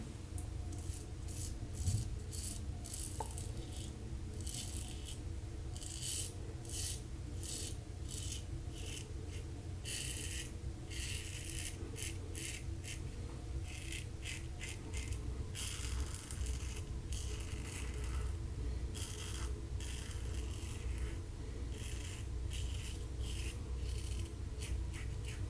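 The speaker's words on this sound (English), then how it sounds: "Yeah, this razor is really loud." Standard aluminum safety razor scraping through lather of Noble Otter shave soap, a loud raspy crackling of strokes in rapid uneven bursts, close and continuous with no talking.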